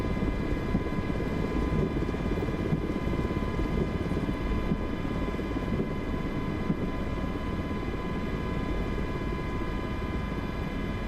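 Simulated Miltech MH60 helicopter taxiing in Microsoft Flight Simulator, a steady, loud rotor and turbine drone with a constant whine, unchanging and close throughout.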